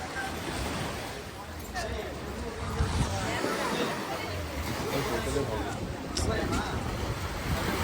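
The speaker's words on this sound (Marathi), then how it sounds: "हे बघू शकता समुद्र माझ्या मागे." Steady rush of surf breaking along a shore at high tide near Rameshwaram, mixed with wind buffeting the microphone and faint voices in the background.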